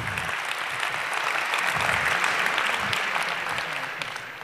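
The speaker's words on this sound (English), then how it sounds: "we try to make applause, okay, test the applause" Conference hall audience giving a test round of applause, a steady wash of many hands clapping throughout, full and continuous with no talk over it, fading slightly at the close.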